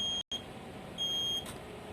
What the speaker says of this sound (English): Now for buzzer test, press clear key or enter key to stop the beeping.